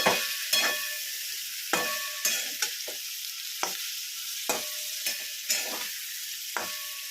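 Brinjal fries in oil with red chilli masala, giving a strong, steady sizzle punctuated by regular scraping stirs of a spoon against the pan roughly every half second, close up and with no voices.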